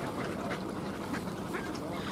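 Ducks wintering on frosty water at Tsarskoye Selo quack continuously over a dense, close background of splashing and flock chatter.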